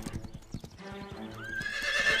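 A horse's hooves clip-clop in a steady rhythm, then the horse lets out a loud, rising whinny that carries to the end.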